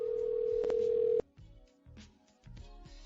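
Telephone dial tone from a radio show's call, a steady loud tone for about a second, then softer ringing and dialing sounds with brief pauses.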